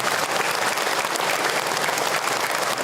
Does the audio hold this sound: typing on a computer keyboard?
no